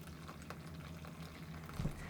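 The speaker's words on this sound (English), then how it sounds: "Now I'm going to pour the liquid through a tea towel" Liquid from a simmered mixture is poured through a tea towel, giving a soft, steady trickling and bubbling wash close by with a brief louder splash near the end, no talk.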